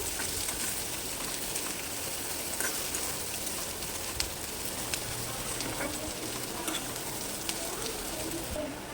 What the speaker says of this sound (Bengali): দিয়ে দেবো এর মধ্যে গাজর কুচি আর দেবো কাঁচামরিচ কুচি গাজরটাকেও একটু ভেজে নেব